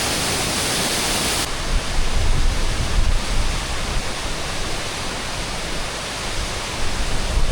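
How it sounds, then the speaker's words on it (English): A Highland waterfall in Scotland, heard up close on the Drumbeg Loop, pours as a loud, steady broadband rush that holds without pause. "What a spectacular waterfall."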